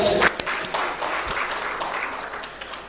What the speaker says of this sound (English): A huge round of applause for Hans for celebrating 10 years.